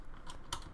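A few quick keystrokes on a computer keyboard, faint and close, with light clicks spaced irregularly in near silence.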